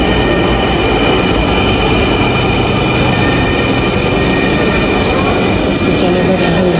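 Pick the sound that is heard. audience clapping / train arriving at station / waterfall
train arriving at station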